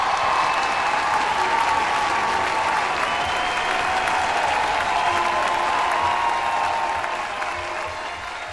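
A studio audience at a televised singing show gives continuous, dense applause over more than eight seconds while a sustained musical tone runs underneath, easing off slightly near the end.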